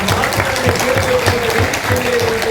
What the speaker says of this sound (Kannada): ಎಲ್ಲರ ಕಡೆಯಿಂದ ಜೋರು ಚಪ್ಪಾಳೆ